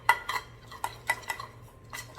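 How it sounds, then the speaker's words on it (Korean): A spoon stirs mustard powder into hot water in a bowl, making quick, close clinks and scrapes against the bowl in an uneven rhythm. "잘 저어주세요."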